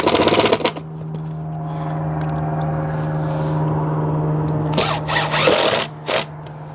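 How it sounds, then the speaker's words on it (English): A power drill drives screws through a plastic fluted wall panel into the wall, with a close, loud whir that starts abruptly and then settles into a steady hum, followed by a few short, sharp bursts of the motor. "Just gonna go ahead and fit these screws in. Push him onto the wall."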